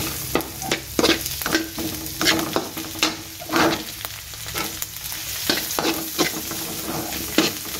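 Garlic and onion sauté in a hot pan, a continuous sizzle broken by repeated scraping stirs every half second or so, close and fairly loud, with no voices.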